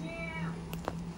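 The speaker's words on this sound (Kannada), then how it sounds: "ನಮ್ಮ ಬೆಕ್ಕು ಸಿಟ್ಟಲ್ಲಿ ಕೂತಿದೆ ಇವತ್ತು." A house cat gives a single short meow, fairly faint, against quiet household background noise.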